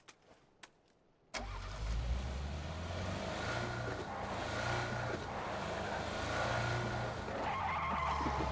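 A car engine revs up abruptly in the PUBG video game after a moment of near silence with a couple of clicks, then runs loud and continuously with tire skidding and road noise.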